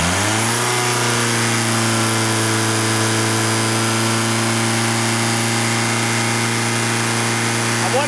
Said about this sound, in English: this time I revved the stones off and it didn't actually die on its arse